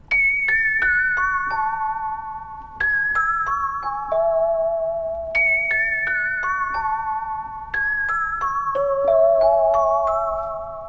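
A pitched-up bell preset from a software synth plays bright, clean descending arpeggiated chimes in repeating four-bar phrases, each struck note ringing and sustaining over the next, alone and steady.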